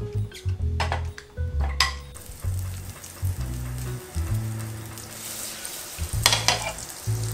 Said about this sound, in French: Dans une casserole, on va faire fondre le beurre.